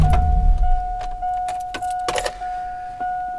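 A pickup truck's door-open warning chime rings in a steady repeating tone after the engine is shut off, with a few brief clicks and rattles over a quiet background.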